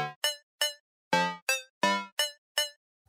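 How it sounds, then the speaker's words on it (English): Retro bell synth patch from the 1984 Crew preset, played in Cubase: eight bright, clean bell-like notes in a short, uneven rhythm, each with a quick strike and short decay, heard alone with silence between them. "I think I'm going to go with this 1984 Crew Retro Bells."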